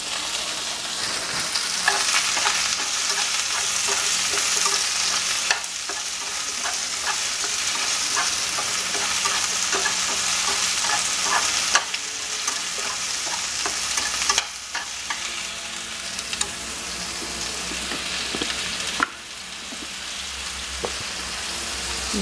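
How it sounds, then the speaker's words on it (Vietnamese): King oyster mushrooms stir-fried in a pan with minced garlic and browned shallots for a vegetarian bún bò Huế broth: steady loud sizzling with frequent scraping stirs and clacks close by, no voices. "giờ mình cho nấm này, nấm đùi gà vô mình xào luôn"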